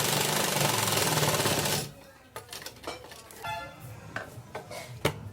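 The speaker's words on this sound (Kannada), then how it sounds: "ಫಸ್ಟು ಇಲ್ಲೊಂದು ಕಚ್ಚಾ ಹೊಲಿಗೆ ಹಾಕೋರಿ." A sewing machine runs a tacking stitch on a shirt front with a steady buzzing mechanical whir for about two seconds, then stops, leaving scattered clicks and fabric handling sounds.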